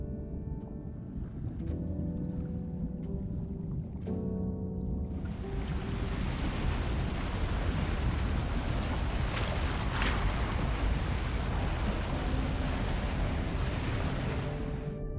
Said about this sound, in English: It's the waves. They're just too strong.